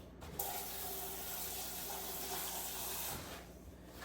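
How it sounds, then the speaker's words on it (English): Water running from a tap and poured over carrot sticks, a steady close hiss of flowing water lasting about three seconds before cutting off. "So I'm gonna throw some water on these to keep them fresh."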